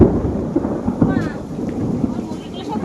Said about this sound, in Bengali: এখন কিন্তু ভারীভাবে বৃষ্টি আসবে আর বিদ্যুৎ চমকাচ্ছে